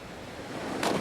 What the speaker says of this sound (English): I see a pretty big splash on that, which means she rotated past vertical